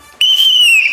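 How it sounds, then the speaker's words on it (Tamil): A whistle blown once in a single sharp, sustained shrill blast lasting most of a second, loud and close, starting abruptly over low background hum. "சத்தம் பத்தலையே, விசில் சத்தம் பத்தலையே"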